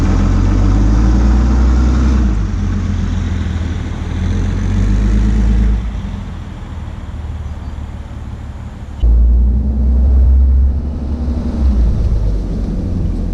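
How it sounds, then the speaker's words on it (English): A Cummins diesel truck engine with its intake baffle removed revs and settles, the turbo whine riding over a loud, steady low rumble that dips midway and then swells again, with no talking. "maybe we can hear some of that warmed up turbo sound now that we got that baffle out of the intake."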